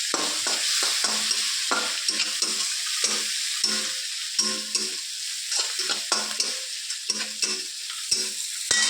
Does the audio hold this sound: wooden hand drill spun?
no